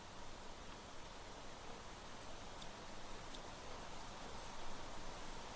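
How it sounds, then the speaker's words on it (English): Rain falls indoors in The Planet Crafter game, a steady, even hiss of droplets with faint patters continuing throughout at low volume. "I love that it's raining in here."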